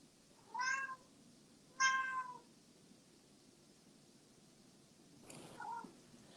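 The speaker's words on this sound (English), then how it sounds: "you might get some meows and some purrs and all these things in the background" A cat meows twice in quick succession, fairly close and clear, in an otherwise quiet indoor room, followed a few seconds later by a softer, fainter vocal sound; no one speaks.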